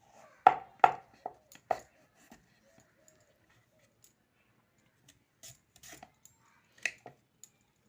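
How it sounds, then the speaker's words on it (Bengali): A knife chops peeled papaya into small pieces, with a few sharp, close cuts in quick succession, then sparse, quieter taps and pauses; no one talks. "পেঁপেটাকে ছোট ছোট পিস করে নিতে হবে"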